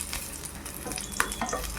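Crushed garlic with its skin and about ten dried red chillies dry-roast in a pan for a podi spice powder. Close, continuous crackling and sizzling with scraping stirs and one sharp clink, and no voices.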